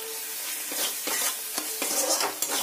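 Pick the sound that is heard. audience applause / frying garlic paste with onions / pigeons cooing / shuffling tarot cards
frying garlic paste with onions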